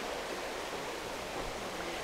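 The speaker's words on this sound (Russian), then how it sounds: "Ну, водопад, э, видимо, искусственный, река вся эта" Artificial waterfall feeding a river in Bali's monkey forest, a steady, soft broadband rush of falling water heard alone at a moderate distance.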